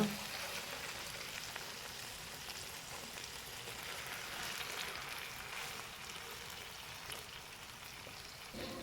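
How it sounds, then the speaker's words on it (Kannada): Fish coated in masala shallow frying in oil in a pan, a faint continuous crackling sizzle like light rain, steady throughout and heard alone. "ಎರಡು ಸೈಡ್ ಕೂಡ ಸ್ವಲ್ಪ ಶಾಲೋ ಫ್ರೈ ಮಾಡಿ"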